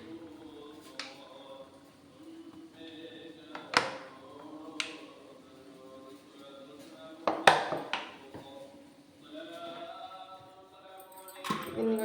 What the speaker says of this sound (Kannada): ಇವಾಗ ಈ ತಟ್ಟೆಗಳಿಗೆ ಎಣ್ಣೆ ಹಾಕ್ಕೊತೀನಿ.